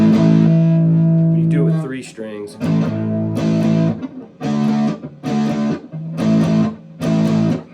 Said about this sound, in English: So if we're using distortion, let me get a little practice amp over here.